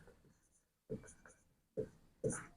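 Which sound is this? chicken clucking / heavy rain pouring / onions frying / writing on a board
writing on a board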